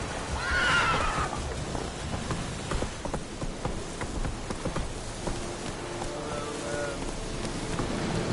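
Roach, Geralt's horse in The Witcher 3 game, lets out a loud whinny at the start, then gallops with rhythmic hoofbeats amid rain and ambient game sounds; a second, fainter neigh follows later.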